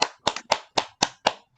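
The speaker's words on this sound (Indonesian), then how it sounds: "tepuk tangan dulu untuk semua kelas" A grade 7 junior high class applauds in a classroom, with six sharp bursts of hand clapping spaced about a quarter second apart. The clapping is fairly close and briefly intense, then stops.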